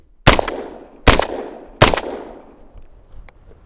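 Three sharp rifle shots fired by a shooter wearing Viktos Wartorn gloves, evenly spaced about a second apart, each loud crack trailing off in a decaying echo, with no talking.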